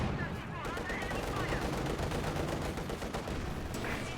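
Armor-piercing shell glancing off a Soviet T-70 light tank in Company of Heroes 2, set amid a dense, continuous wall of loud battlefield gunfire and machine-gun clatter, with a voice talking over the din.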